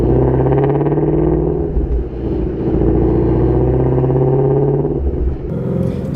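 A Shelby GT350 V8 revs loudly up close with a rough, rumbling exhaust, holding a steady throaty roar with slight dips and swells in pitch.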